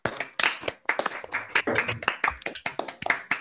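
Scattered clapping from a small online audience after a physics talk, individual uneven claps and taps from a few unmuted participants, close and sharp rather than a blended crowd.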